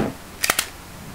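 A Glock pistol is handled during a safety check, giving three quick sharp mechanical clicks close together from the slide and action, heard alone and near.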